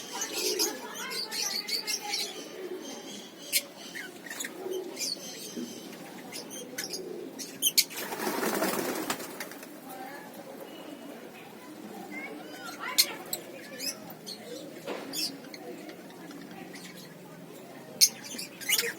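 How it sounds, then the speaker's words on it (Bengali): Lovebirds in a breeding setup chirp and call in scattered bursts, with a louder noisy stretch midway and voices talking now and then nearby. "এগুলো ডাকছে খুব।"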